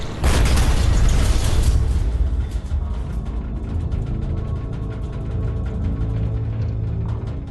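A single loud depth charge explosion close to a submerged World War II submarine, a heavy opening boom trailing into a long rumbling, rattling decay.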